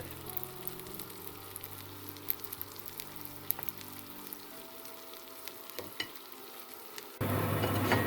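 Bread frying in butter for a cheese soup makes a continuous close sizzle over a droning kitchen extractor hood, with faint scraping clicks, and a louder burst of sizzling near the end.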